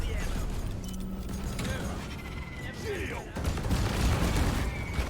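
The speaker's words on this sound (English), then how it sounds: "Just very selfishly grab that while everything's blowing up around me" Explosions and gunfire in the video game Deep Rock Galactic, a dense clattering barrage of blasts and shots with mechanical noises, growing louder toward the end, while a player talks over the action.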